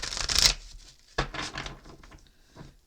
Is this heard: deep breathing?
no